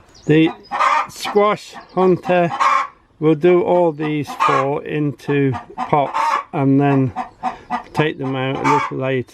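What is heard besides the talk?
chickens clucking over a nest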